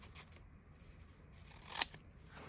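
Scissors snip once through a paper flap, a single quiet crisp cut against a faint, near-silent room.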